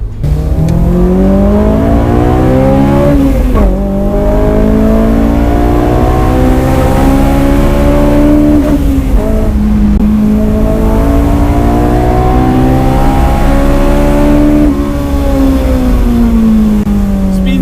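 A Honda S2000 engine revs hard to 9000 rpm, climbing steeply again and again in loud repeated pulls with brief drops between them, sustained and close with no talking.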